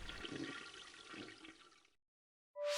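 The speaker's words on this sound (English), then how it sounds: "quickly flushed it down the loo" A toilet flushing in a gush of rushing, swirling water that runs for about two seconds and then stops abruptly, followed by a short silence before a separate bright sound begins.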